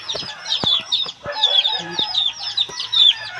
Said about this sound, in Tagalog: Panay po ang siyap ng sisiw.